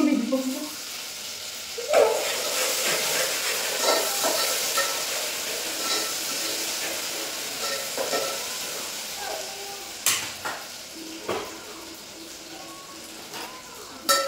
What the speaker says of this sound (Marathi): इथे भाजी करून घेत आहे